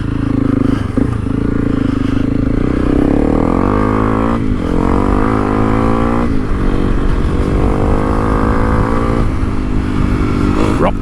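A Honda CRF300L Rally motorcycle rides off-road on a dirt track, its single-cylinder engine droning steadily and loud, rising and falling with throttle changes as gears shift, with occasional scrapes and clatter from the terrain.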